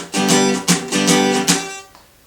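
Bar chords strummed on a guitar in a steady pattern, with muted chucks cutting between the ringing strums, close and clear, ending on a decaying chord.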